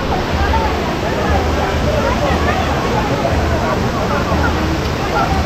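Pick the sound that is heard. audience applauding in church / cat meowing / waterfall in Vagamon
waterfall in Vagamon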